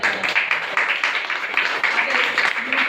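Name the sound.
audience applause for women sanitation workers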